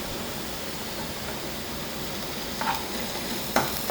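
Onions being sautéed in a pan for fish molee, a steady soft sizzle throughout with a couple of brief scraping stirs near the end, no voices.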